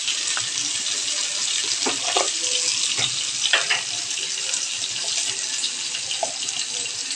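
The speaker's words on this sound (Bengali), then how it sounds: "এদিকে আমার সবজিগুলো ফ্রাই হোক" Vegetables fry in a pan with a steady, loud, hissing sizzle that runs throughout, broken by a few faint clinks.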